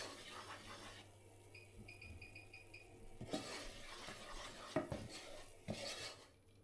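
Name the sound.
stirring flour into butter to make a paste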